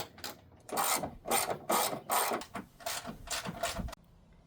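A 10 mm ratchet backs out grille screws on a Hummer H3, giving a string of loud close rasping clicks in bursts of roughly half a second, with no talking.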